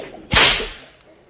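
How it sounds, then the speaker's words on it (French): A single loud whip crack comes as a sound effect, a sharp bright snap that fades out over about a second, with no talk. "on va t'infliger des coups de fouet par milliers"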